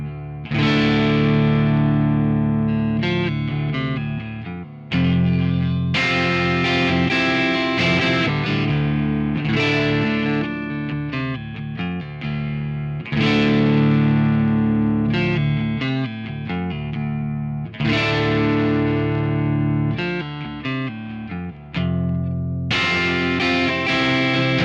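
A Fender Ultra Luxe Vintage 60s Telecaster electric guitar with 60s style pickups plays strummed chords and riffs, loud and continuous with several short pauses, carrying effects-driven distortion and chorus-like shimmer.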